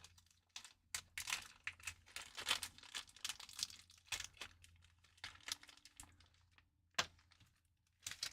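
Plastic bags being crumpled and crinkled up close to be thrown away, a run of sharp crackling bursts with brief pauses between them, no talking.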